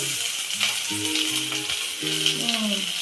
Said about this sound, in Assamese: এতিয়া মাহি পিয়াজ দিব পিয়াজখিনি ভাজি ল'ব